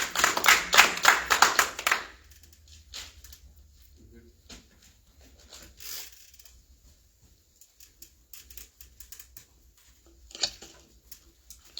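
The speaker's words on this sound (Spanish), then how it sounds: "vamos a recibirle con un aplauso." Applause from a church congregation at a Sunday service, a short burst of clapping that fades after about two seconds, followed by quiet room sound with occasional soft taps and a brief voice.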